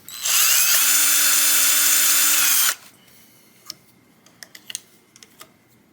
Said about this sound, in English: Drill us a new hole back here for the screw.